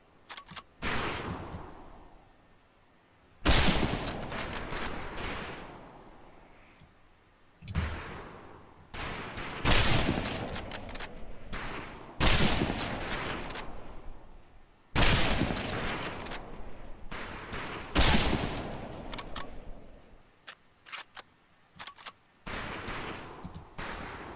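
Rifle fire on a firing range in the video game Medal of Honor Pacific Assault: loud volleys of gunshots come in bursts, each followed by a brief lull, and the sequence repeats about six times with no talk.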